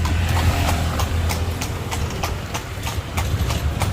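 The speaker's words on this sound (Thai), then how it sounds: "ตอนนี้กำลังนั่งขี่รถม้ารอบเมืองลำพานนะครับ" A horse pulls a carriage around Lampang town in Thailand, its hooves clip-clopping in a steady, even rhythm, close and clear, over a low rumble of wheels and street noise.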